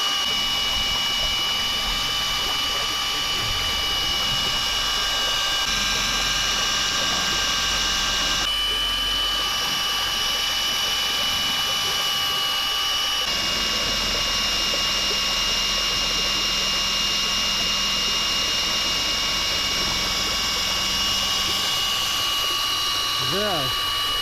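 Small boat motor droning continuously while crossing a channel between lakes, with a steady mechanical whine and rattle, close and constant, shifting slightly in pitch.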